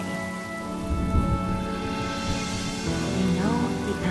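Steady rain hisses throughout a Honkai Star Rail cutscene, a dense, even wash of falling water under a sustained musical drone, with no voices.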